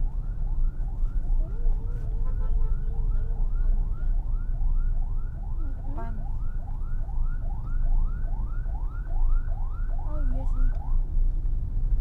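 Several ambulance sirens wail, sweeping up and down repeatedly over steady traffic rumble on Jalan Jenderal Soedirman in Indonesia, fairly close, with brief talk from people nearby.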